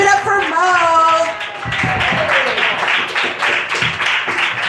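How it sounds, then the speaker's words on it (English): Applause from the audience at an open mic comedy night, a steady patter of clapping hands that swells after a sung-out introduction and carries on under a host talking over it. "Clap it up for Corinne Tryon"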